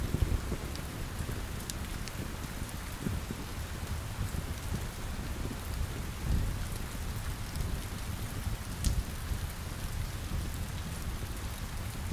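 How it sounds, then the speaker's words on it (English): Steady rain patters around a lakeside cabin during a thunderstorm, a soft even hiss with a few brief sharper cracks and low rumbles mixed in. "The lightning bolt spreads to the ground as thunder cracks one more time,"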